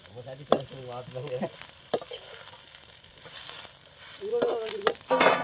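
Sauce and whole spices such as cinnamon sizzle in a hot pan, a close frying hiss punctuated by clinks and scrapes of a utensil stirring, with a brief voice in the background.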